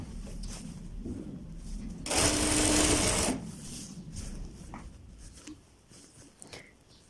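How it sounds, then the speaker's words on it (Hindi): A sewing machine stitches the sleeve of a child's kurta in one loud, fast whirring burst of about a second, then stops, leaving quiet handling noise. "यहाँ से अब हम अपने बाजुओं से सिलाई अपनी स्टार्ट करते हैं।"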